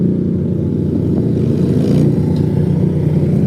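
A loud cruising car engine on Woodward Avenue rumbles in low, continuous throbbing, close by and steady with slight swells, alongside the hum of passing traffic and no voices.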